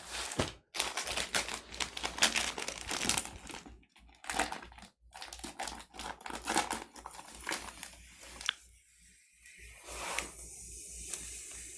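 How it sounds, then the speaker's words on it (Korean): Air hisses out steadily as a vacuum-packed pillow filling is unsealed, alongside crinkling plastic, with a few brief pauses and rustles as the packaging shifts. "들리시나요? 쉬익 하는 소리"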